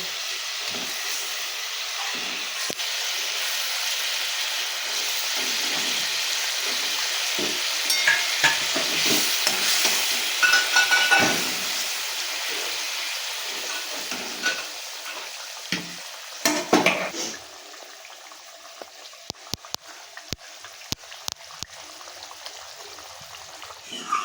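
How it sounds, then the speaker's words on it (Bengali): A Bengali bhola fish jhal curry bubbles in a pan with a loud, steady hissing boil, settling after a while into quieter simmering broken by sharp utensil clicks nearby. "জলটা খুব ভালো করে ফুটে গেছে"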